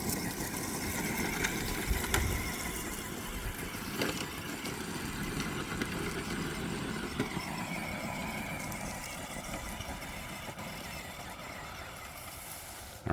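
An RC crawler on RC4WD Milestar Patagonia tires climbs a hill at full throttle, its electric motor whining steadily with drivetrain buzz and gravel scrabble, continuous and close, gradually easing toward the end.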